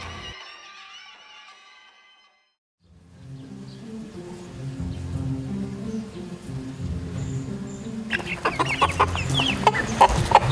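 Chickens cluck and mutter continuously in a farmyard coop, close and growing busier, with sharp scratching and rustling toward the end after a brief quiet gap.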